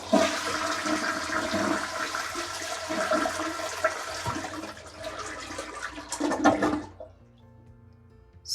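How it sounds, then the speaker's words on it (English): A household toilet flushes to empty its tank before a handheld bidet is fitted, with a loud, steady rush of water for about seven seconds that cuts off abruptly, leaving a faint trickle. "To do that, we must flush the toilet."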